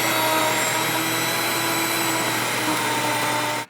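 A home grain mill runs steadily, grinding Kamut whole wheat berries with a loud, continuous high-pitched whirring drone that holds without a break, then cuts off sharply at the end.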